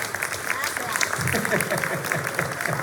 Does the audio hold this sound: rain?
no